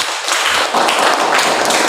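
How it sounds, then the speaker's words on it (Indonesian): A classroom group claps in applause, a dense patter of hands close by for about two seconds. "Silakan tepuk tangan kelompok 1."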